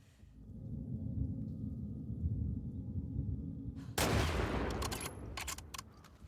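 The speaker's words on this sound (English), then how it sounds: "That's a very loud rifle shot." A single loud, sharp rifle shot in The Last of Us Part II cracks out after several seconds of low ambient rumble, followed by a ringing echo and a few scattered smaller impacts.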